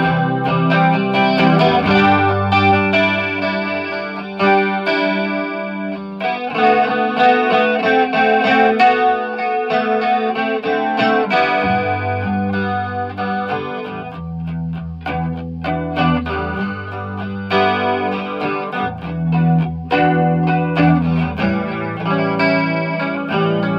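An electric guitar played clean through a chorus effect in an indie rock style in a home studio, alone and close, with shimmering chords and melodic phrases over a steady low bass line.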